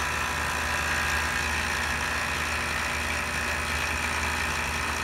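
A vacuum pump drones with a steady mechanical motor hum at low volume while pulling vacuum on a pulse tank, with no change in pitch or rhythm throughout.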